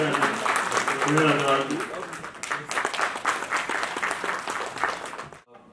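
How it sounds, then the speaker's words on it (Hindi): A person speaks loudly in Hindi at first, then a seminar audience breaks into sustained applause, clapping steadily for several seconds before it cuts off. "जोरदार ताली बजनी चाहिए"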